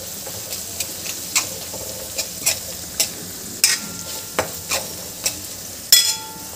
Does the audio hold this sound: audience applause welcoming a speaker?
no